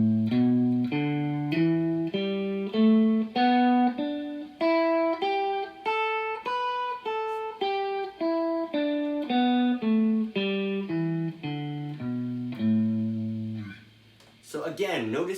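Guitar running the third position of the pentatonic scale, single notes picked one at a time climbing and then descending in an even rhythm, clear and alone, ending with a short scrape.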